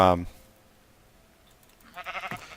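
Two short bleats from sheep in Minecraft, one loud at the start and a second around two seconds in, separated by near silence.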